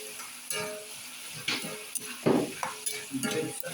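Potatoes fry in a pan with a soft, fairly quiet sizzle. Intermittent scrapes and knocks of stirring come close by, and there is no talk.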